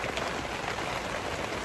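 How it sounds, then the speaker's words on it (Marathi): Rain falling steadily near Sonmarg in cold weather, a dense, even patter on surfaces close by that holds constant throughout with no voices. "पाऊस बघा, पाऊस आणि थंडी बघा."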